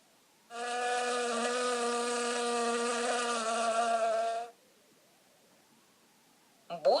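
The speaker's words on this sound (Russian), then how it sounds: "Оса." A wasp's steady buzzing drones for about four seconds, loud and close with a rich harmonic tone, then cuts off into quiet, followed by a brief noise at the end.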